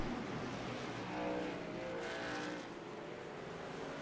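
Racing trucks in a truck series race lap a circuit, a steady broad engine roar from the pack holding at moderate distance with a slight swell as vehicles pass.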